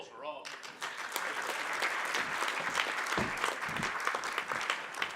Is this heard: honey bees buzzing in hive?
no